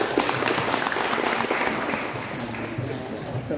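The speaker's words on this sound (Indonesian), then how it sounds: "Oke, tepuk tangan dulu ya." Audience applause at a pharmacy class or student event, a steady dense wash of clapping hands lasting throughout at even loudness.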